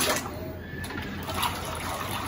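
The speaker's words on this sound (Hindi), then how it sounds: "प्रेशर देखिए मोटर का, छोटा सा फाउंटेन तो यहीं बन गया।" Water splashes and trickles steadily from a small fountain driven by a pump motor in a backyard fish pond, a continuous close, moderately loud spray with a faint low hum beneath it.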